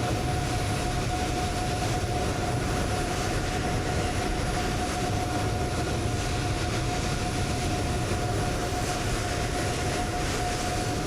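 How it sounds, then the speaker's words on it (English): A Boeing 747 taxis toward the cargo area at Hong Kong in Microsoft Flight Simulator 2020, a steady jet engine drone with a constant high whine, loud and unchanging throughout. "So here we go, 747. Taxiing over to the cargo area."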